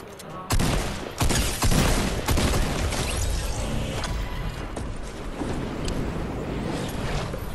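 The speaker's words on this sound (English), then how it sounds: "Drum gun, boys!" A drum gun firing in the battle royale game Fortnite, a burst of close, loud automatic shots with heavy booms at the start, followed by continuing rapid gunfire and game noise.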